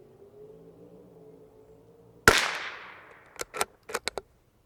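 A single sharp Bergara BMR rifle shot firing RWS special match ammunition outdoors in a breeze, a loud crack with a decaying tail, followed by several quick clicks and clacks of the action.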